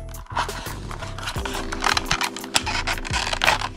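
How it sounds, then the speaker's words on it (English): Scissors snip and crinkle through the plastic packaging of a pink Tudia DualShield Grip MergeGrip case for the Google Pixel Fold: a close, busy run of sharp cuts and rustles over a faint steady hum. "I'd rather use the scissors today."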